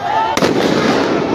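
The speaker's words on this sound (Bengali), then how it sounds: "আবার আবার ফায়ার হয়েছে" A single sharp, loud bang from army gunfire amid street unrest in Gopalganj rings out once, followed by a lingering noisy wash, with a voice talking throughout.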